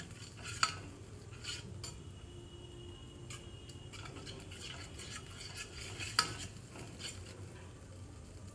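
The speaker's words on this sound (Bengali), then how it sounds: "ভালো করে নেড়ে চেড়ে নিচ্ছি।" A spoon stirs potato and pointed gourd korma with yogurt in a pan, soft steady scraping under a low simmering hiss, with a couple of sharper knocks against the pan, close and fairly quiet.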